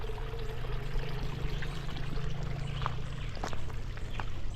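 Storm water runs out through a roadside drainage pipe after a storm in the Dominican Republic, a steady rushing pour with faint splashes, fairly close.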